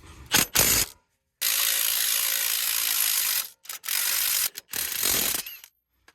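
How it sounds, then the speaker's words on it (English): A 21 mm impact wrench removes the bottom shock bolt on a 2018 Chevy Silverado 2500 fitted with Bilstein 5100 shocks, firing several loud, close rattling bursts with brief silent gaps between them. "now let's take off the bolt on the bottom. 21 millimeter impact."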